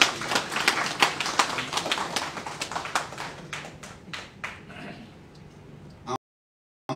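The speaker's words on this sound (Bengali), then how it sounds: "সেই জিল্লুর রহমানের জন্য আপনারা সবাই জোরসোরে একটি করতালি দিন" An audience claps for a welcome at a reception in London for a Bangladeshi industrialist: dense, quick claps at first that thin out and fade over about five seconds, then stop, with faint voices underneath.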